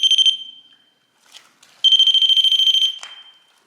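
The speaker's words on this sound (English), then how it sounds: "the REM pod" A REM pod ghost-hunting detector alarm sounds in a tunnel setting with a steady high electronic tone: a short burst, a brief gap with faint noises, then a longer pulsing beep that stops abruptly.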